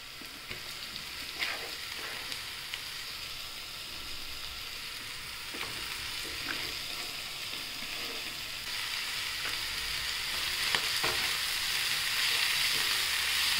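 Tender fenugreek leaves fry in hot oil with browned onion, giving a steady, bright sizzle that grows slightly louder over time, with occasional scraping stirs and no voices.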